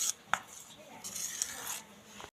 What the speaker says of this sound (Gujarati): હવે એને મિક્સ કરી દેવાનું છે।